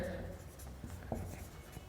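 Marker or chalk scratching across a board during a classroom lesson, a short stroke of writing heard close amid room noise with faint speech around it.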